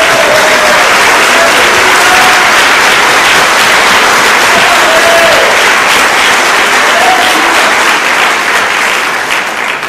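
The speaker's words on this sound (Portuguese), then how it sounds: "Dá uma salva de palmas a Jesus." Congregation at an evangelical church service applauding in praise to Jesus, a dense, steady wash of many hands clapping at once, loud and sustained throughout with faint voices mixed in.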